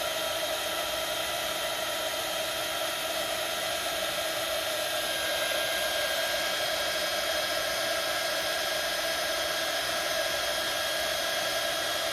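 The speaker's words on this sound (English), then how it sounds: "you keep the heat gun away from it a little bit" A heat gun blows steadily during embossing, a constant loud whirring roar of fan and airflow with no pauses, close and alone.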